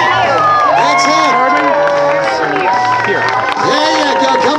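A crowd at a lumberjack show cheers and shouts loudly and continuously, with a host's voice calling out over the noise.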